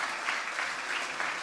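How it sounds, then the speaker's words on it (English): A church congregation claps for the praise team at a Resurrection Sunday service, a dense, steady wash of many hands close by and loud, with no voices standing out. "Can we get one more hand clap of praise for our praise team?"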